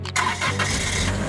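A cartoon ice cream truck's engine cranks and starts, then settles into a steady running rumble, loud and close with no talking.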